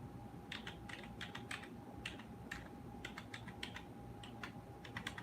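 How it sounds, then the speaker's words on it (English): Typing on a computer keyboard, a fast, steady patter of soft key taps up close over a low background hum, with no talking. "let me type in Lily Lukilani"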